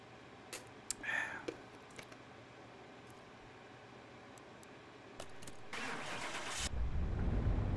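Smith & Parker Outlaw engine, rated 285 horsepower and 371 lb-ft from the factory, starting up on an engine dyno and building into a rising, loud roar for a full pull after a few scattered knocks and clicks.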